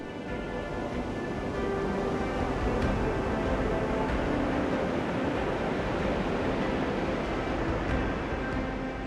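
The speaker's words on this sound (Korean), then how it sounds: "예전보다 더 강해진 파도는 연일 해변으로 몰아칩니다" Strong, high ocean waves surge onto a sea-turtle nesting beach, a dense, steady roar of surf with wind noise and no clear breaks between breakers, loud and continuous throughout.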